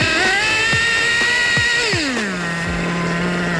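A nitro-powered RC car engine screams at high revs, a steady whining buzz with quick throttle blips, then its pitch sweeps down and settles into a lower drone; loud and close, with no talking.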